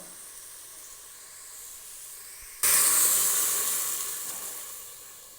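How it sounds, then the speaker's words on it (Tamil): Boiled mutton pieces dropped into a pan of fried onions for mutton kuzhambu, a quiet low background suddenly erupting into a loud, bright hissing sizzle that slowly fades over several seconds. "வேக வச்ச கறியை எடுத்து கொட்டிக்கிறோம்"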